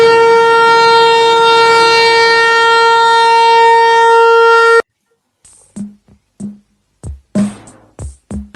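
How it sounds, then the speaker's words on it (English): A loud, sustained civil-defense-style siren wails steadily for several seconds, then cuts off abruptly, followed by a few short sharp bursts. "let's sound the sirens."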